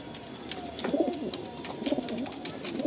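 Lalsira pigeons coo in soft, repeated low burbling calls at close range, several short phrases spread across a quiet, slightly noisy background.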